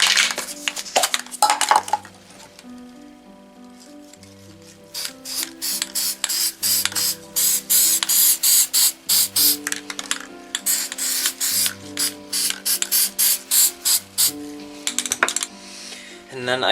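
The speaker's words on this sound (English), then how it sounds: "just do some spray paint, and that should work" Spray paint hissing from a can over a metal file held down with a screwdriver, several short bursts and longer sprays with rattling pauses between, close and loud, with light background music.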